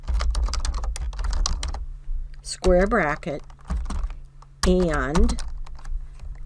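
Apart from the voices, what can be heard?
typing on a computer keyboard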